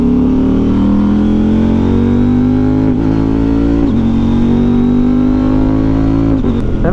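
A 2024 CF Moto 800MT adventure motorcycle engine held at a steady, loud idle-to-mid rev with a few quick throttle blips and a slight rising pitch, close up and without speech.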